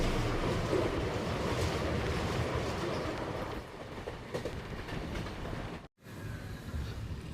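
The Rani Chennamma Express on the Bangalore to Miraj line gives a steady, broad rolling rumble on the rails from inside the train. It eases slightly midway and drops out for a brief moment before resuming, with no voices.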